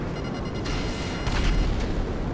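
An explosion in GTA V Online rumbles as a dense, continuous boom with heavy low-end roar that swells slightly midway and stays loud throughout.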